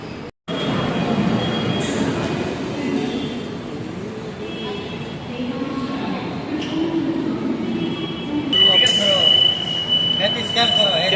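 A Kochi metro train runs along its track with a steady rolling rumble from inside the car, and a high wheel squeal rises near the end, while a voice talks faintly.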